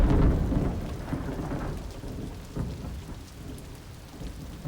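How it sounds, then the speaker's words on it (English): Driving rain hisses through a blinding downpour while thunder rolls and rumbles in several heavy bursts, loudest at the start and fading into steady, dense rainfall. "imagine you've been driving for 2 hours through a blinding downpour"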